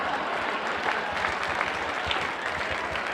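An audience at a debate event applauds steadily, a dense even wash of clapping from a crowd that holds for the whole stretch.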